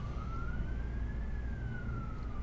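A wailing emergency siren sweeps slowly up and back down in one long continuous tone over a steady low road rumble, moderately loud and unaccompanied by voices.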